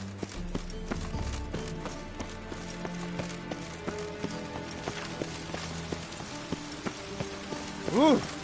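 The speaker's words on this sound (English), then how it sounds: "It just rains" Steady rain falls across a scene in The Witcher 3, a soft continuous patter on surfaces that carries through the whole stretch, with faint hoof-like clops and a brief brighter swell near the end.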